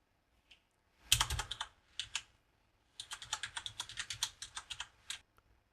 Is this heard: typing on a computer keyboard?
yes